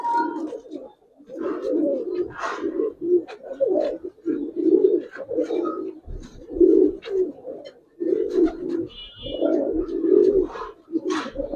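Giribaz pigeons, an old traditional breed, coo repeatedly in low, throaty bursts close by, the rolling calls overlapping almost continuously with brief pauses.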